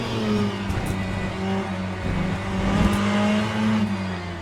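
A Ferrari 488 GTE racing car's engine in Le Mans Ultimate drones steadily at high revs, with slight pitch shifts as it holds speed, loud and continuous with no talk.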